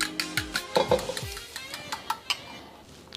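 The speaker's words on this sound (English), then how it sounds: "lightly scramble them" A utensil scrapes and taps against a pan while cracked eggs are lightly scrambled for a chicken fried recipe, a series of sharp clinks and short scraping strokes over a faint sizzle, close and without talking.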